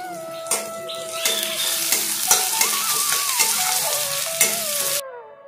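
Capsicum and carrot stir-fried in a hot pan, a steady loud sizzle with rhythmic scraping strokes of a spatula against the metal, continuous for about five seconds before cutting off abruptly.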